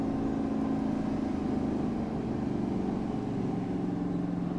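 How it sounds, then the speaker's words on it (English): A Chevy truck's exhaust brake engages while driving: a continuous low engine drone heard from the cab, steady and moderately loud, with no talking. "And that exhaust brake really kicks in."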